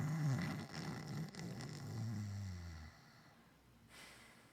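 A game master voices a deep snoring, imitating a sleeping creature, with a couple of low rumbling snore breaths close up followed by a quieter trailing exhale.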